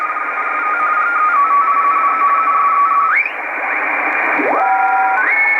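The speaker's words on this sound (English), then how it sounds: "Radio teletype." A shortwave radio teletype signal on an Icom IC-R8500 receiver in the 14 MHz band: steady two-tone digital warbling over a hiss of static, with the pitch sliding as the receiver is retuned.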